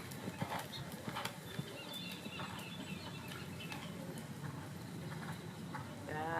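A horse canters in a riding arena, its hoof beats coming in a rhythmic series of soft thuds at moderate distance, with faint background noise and no speech.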